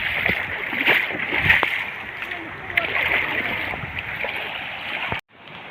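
Floodwater rushes past a road crossing in a loud, steady roar that continues without a break, then cuts off abruptly just before the end.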